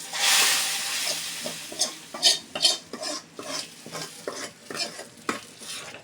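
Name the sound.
onion-garlic tempering poured into dal, sizzling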